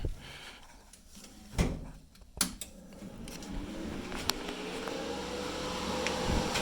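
A PrimeWeld TIG welder powers up with a few sharp clicks, then a faint rising whine like a cooling fan spinning up, settling into a low steady hum.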